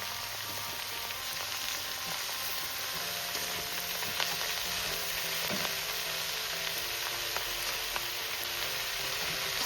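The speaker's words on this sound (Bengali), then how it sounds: "এবার আমি এর মধ্যে দিয়ে দেবো চিড়ে রাখা কাঁচা লঙ্কা" Sechi greens with slit green chillies fry in a pan, giving a steady, bright sizzle close by with faint clicks of stirring throughout.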